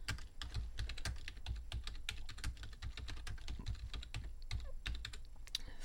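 Fingers type quickly on a computer keyboard, a close, irregular patter of sharp key clicks with a few louder strikes, continuing without pause and with no talking.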